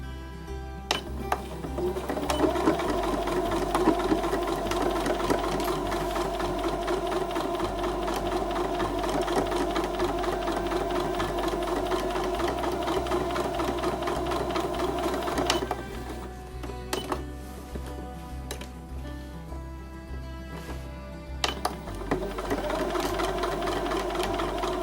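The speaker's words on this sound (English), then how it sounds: "I'm going to start with the back stitch, and then I'm just going to continue to sew along that seam as I normally would." A sewing machine runs steadily for about 25 seconds, stitching a quilt block seam after a short back stitch, with a continuous close mechanical whir and brief pauses near the middle and end.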